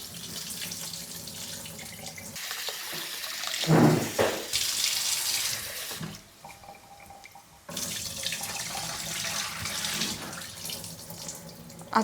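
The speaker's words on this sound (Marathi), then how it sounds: "आता हा स्वच्छ धुवून घ्यायचा 3 ते 4 वेळा. हे पाणी काढून टाकायचं यातलं पांढरट." Whole basmati rice is rinsed in water to make mutton biryani, with water running and splashing steadily for about twelve seconds. The sloshing is close, and a brief quieter pause comes partway through.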